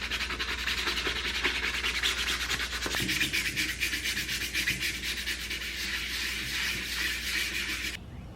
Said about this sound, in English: we're gonna go back to our 220 grit sandpaper and just pass over the helmet really lightly